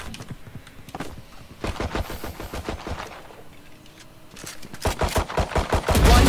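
Gunfire rattles in a first-person shooter game, with quick bursts of rapid shots followed by a louder volley near the end, close and without talk.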